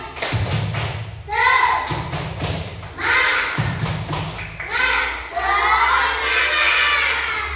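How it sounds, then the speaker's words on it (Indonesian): Children in a classroom perform a rhythmic spirit clap, sharp hand claps and thumps in patterned bursts, shouting chant syllables together in loud, excited voices between the claps. "Kasih tepuk semangat dulu lah, biar semangat yuk."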